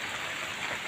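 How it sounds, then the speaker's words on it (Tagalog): Heavy rain pours steadily on a dark, gloomy day, a dense, continuous hiss of drops beating on surfaces with no break and no voices. "Puro ulan dito guys. Ulan-ulan lagi guys."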